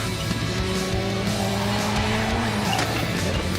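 A rally car driven flat out on a special stage, its engine droning steadily as the tires skid and squeal through a bend, loud and close throughout with no talk.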